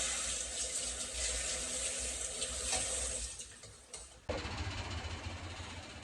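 Tap water runs steadily into a kitchen sink while food is rinsed before cooking, a continuous close splashing that briefly dips and then resumes strongly.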